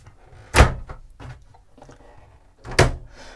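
A cabin door on a Lagoon 46 yacht shuts twice with sharp, close thuds, the bangs about two seconds apart and separated by quieter knocks and handling noises.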